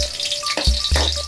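Garlic sizzles steadily in hot oil in a pan at the start of squid adobo, with a couple of brief clatters from stirring or the pan being moved and a faint hum beneath.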